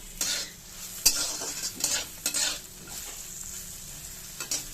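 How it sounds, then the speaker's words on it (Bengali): Thin eggplant slices sizzle and spatter in a pan of hot oil, a steady frying hiss broken by occasional sharp crackles and spoon stirring knocks, close and clear with no talk. "বেগুন ভাজা হচ্ছে"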